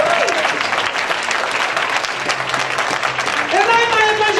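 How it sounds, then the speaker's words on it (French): A church congregation applauds loudly and continuously at a French-language evangelical service, a dense wash of clapping that swells toward the end, with a voice speaking over it. "J'aimerais que quelqu'un l'acclame très fort."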